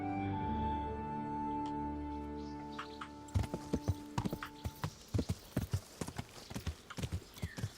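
Horse hooves clip-clop steadily on a path in Kingdom Come: Deliverance, starting after a few seconds of sustained musical tones and continuing in a brisk, even rhythm, close and clear.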